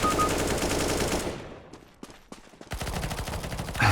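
Rapid automatic gunfire from the video game CS:GO rattles loud and dense, drops away into a few scattered single shots, then bursts back into sustained firing.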